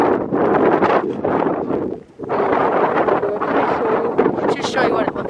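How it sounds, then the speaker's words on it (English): Strong wind buffets the microphone in loud, continuous gusts while it blows snow across an open field, with a brief lull midway and a voice speaking under the roar. "that's just from the snow blowing from the field, and it blows"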